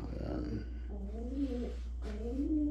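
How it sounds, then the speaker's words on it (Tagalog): A pet bird, likely a pigeon or dove, gives soft, low cooing calls in two short phrases, faint and close, over a steady low hum. "Ay, ingay yung ibon ko ah."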